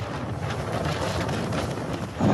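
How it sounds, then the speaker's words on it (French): Powerful cyclone gusts from Cyclone Garance batter La Réunion, producing a dense, continuous roar of wind buffeting the microphone that swells slightly at the end. "Les rafales sont si puissantes qu'elles soufflent cette véranda sous les yeux de son propriétaire"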